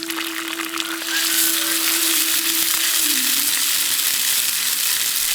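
Ginger garlic paste hitting hot peanut oil in a pan with curry leaves and chili, the sizzle jumping to a loud, steady hiss after a second and staying strong, close up.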